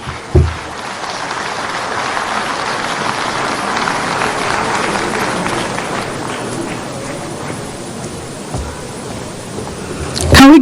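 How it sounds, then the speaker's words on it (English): Audience applause at an investiture ceremony for a new president of the NSE, a steady broad clapping from a large crowd lasting throughout, with a brief louder burst near the end. "Can we give him a more deserving round of applause"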